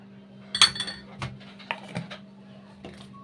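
A teaspoon clinks against a cup several times while honey is added for ginger tea, bright close metallic taps spaced irregularly in a quiet kitchen.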